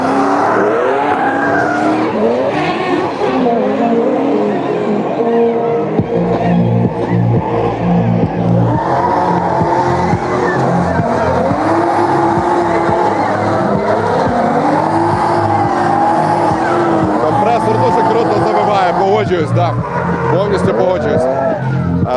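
A supercharged BMW drift car roars through repeated throttle blips and revving, with tyres squealing and skidding in long bursts at a street drift training session, loud and fairly close, while someone talks over it.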